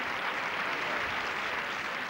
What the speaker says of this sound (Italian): salutiamo Gino con un calorosissimo applauso d'amore